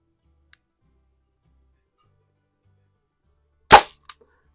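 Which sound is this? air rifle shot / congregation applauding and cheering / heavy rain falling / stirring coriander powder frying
air rifle shot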